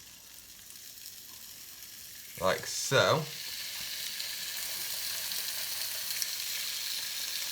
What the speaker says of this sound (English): Take the steaks, which I have already seasoned now with salt and pepper, and we're just going to fry them off until they're lightly browned on each side.